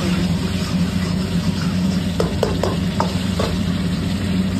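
Cauliflower pieces for green palak gobi manchurian frying in hot oil with a constant dense sizzle, a few light utensil taps near the middle, and a low steady hum in the background.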